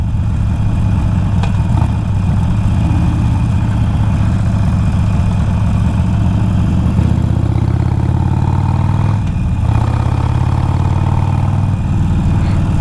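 An Iron 1200 motorcycle engine, just given an oil change, runs close and loud with a steady idle rumble and a couple of slight revs partway through, with no talking.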